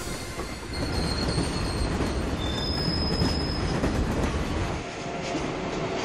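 Heavy-haul coal freight train on China's Daqin Railway, rolling past with a loud, steady rumble and clatter of wagons and a thin metallic wheel squeal overhead, with no voices.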